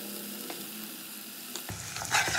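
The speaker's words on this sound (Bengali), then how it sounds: "এবার মশলাটা খুব ভালো করে কষিয়ে নেবো।" A spice paste fries in a pan for a Bengali bhetki fish curry with cauliflower and potato, giving a soft, steady sizzle with scraping stirs that grow louder and busier in the second half.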